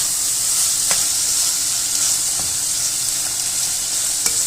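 Keema with tomatoes fries in oil, a loud, steady hissing sizzle with only a few faint stirring clicks spaced through it, near and without speech.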